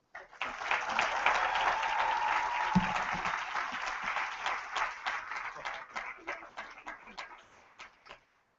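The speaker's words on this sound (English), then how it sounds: "please join me in providing a warm, grizzly welcome to 11 Alive anchor, Ms. Karen Greer." Warm audience applause greets a television news anchor taking the stage at a spring 2014 college commencement, a dense crowd clapping that swells and then gradually thins out to scattered claps.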